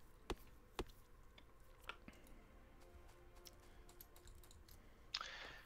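Typing on a computer keyboard, faint, quiet clicking with a few sharper isolated key presses and a short burst near the end, with no talking.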